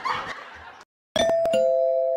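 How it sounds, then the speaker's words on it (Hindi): A doorbell at home rings out a loud two-tone ding-dong, with several sharp strikes followed by a sustained ringing tone. It comes right after a burst of loud talking, then a short silence. "ये साला अलग घंटी में घंटी बजाया जा रहा है"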